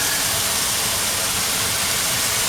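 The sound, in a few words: loud kitchen exhaust fan while stir frying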